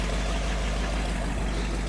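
A 1956 Cadillac Sedan DeVille's engine idles steadily with a deep, continuous rumble, close and loud, with no voices over it.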